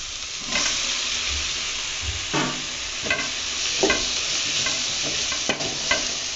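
Chopped tomatoes and onions fry in a pan with a steady hissing sizzle, broken by occasional scraping stirs and light clinks of a utensil against the pan.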